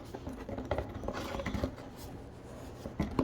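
A dry coat of Flame Blue chrome gold spray paint being scratched, giving a close, continuous rasping and scraping with small uneven bursts and no talking.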